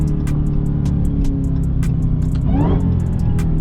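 A car engine drones loudly from inside the cabin, with a quick rev rising and falling during a downshift midway, under a steady road rumble.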